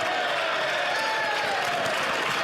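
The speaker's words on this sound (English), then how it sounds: "Give him some applause." Applause in the House of Commons, a brief steady wash of many hands clapping across the chamber, moderately loud, with a voice speaking over it.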